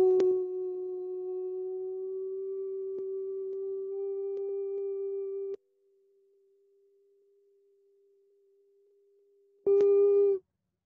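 Meditation tones: a sustained pure tone with faint overtones holds steady, drops to a much quieter level for several seconds, then returns briefly at full strength before cutting off.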